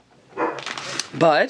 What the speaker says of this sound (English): if you can hear my dog in the background, I apologize.